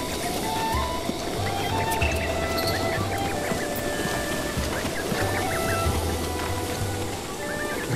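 A chicken in Zelda Breath of the Wild clucks in short repeated bursts over a busy outdoor game soundscape, with low droning tones underneath.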